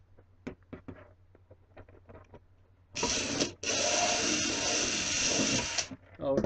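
A power drill bores holes through a clear plastic carton marked with pencil, a loud, steady whirring burst lasting about three seconds, briefly pausing once, after some quieter handling clicks and taps.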